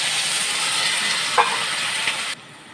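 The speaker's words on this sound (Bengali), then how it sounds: "জল দিয়ে কষবো" Spice paste of cumin, turmeric, Kashmiri chilli powder and salt sizzling with a splash of water in a pan for achor chingri, a steady close hiss that cuts off near the end.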